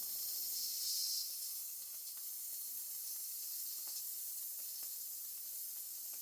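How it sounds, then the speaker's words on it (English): Steady, faint hiss of steam escaping a pressure cooker during cooking of artichoke heart risotto, a continuous light stream with small clicks and no talk. "The idea here is to maintain just a nice little light, steady stream of steam."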